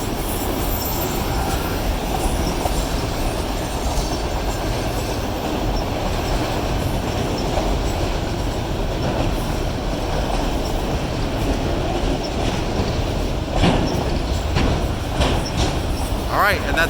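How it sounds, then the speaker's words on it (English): Union Pacific locomotive 8702 hauling an eastbound autorack freight train past an open field at a road crossing, its cars rumbling steadily up close with clacking wheels and occasional metallic squeals near the end. "All right, and that's the end of the train."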